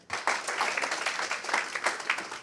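An audience at a marketing meetup in Cambridge gives steady applause. Dense, even clapping fills the room for the whole stretch and never breaks off.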